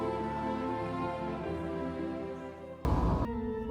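A Reaper flute plays in a Dragon Quest cinematic cutscene as a steady layered tone that holds for several seconds. A short, louder burst breaks in near the end.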